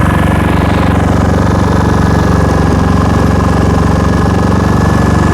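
A portable generator runs steadily throughout, a loud, continuous engine drone with a constant mechanical hum and vibration, close by and with no speech over it.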